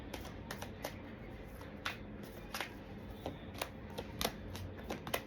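A deck of tarot cards is shuffled close by in quick, crisp riffling flicks and snaps that repeat in irregular bursts over a soft background hiss.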